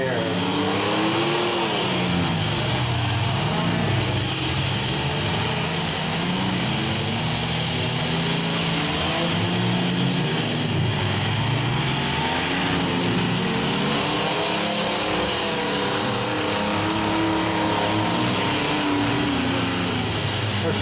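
Mini van and mini truck engines roar and rev without pause at a 2016 demolition derby in Mapleton, Minnesota, a dense and loud wall of motor noise with a muffled voice underneath.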